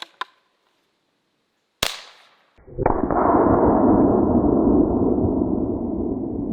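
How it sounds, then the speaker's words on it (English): A .30-06 bolt-action rifle fires a rubber bullet, preceded by a small click. Then a single sharp, loud crack, and after a brief pause a sustained loud rushing noise carries on to the end. "I'll be using this .30-06 bolt action rifle."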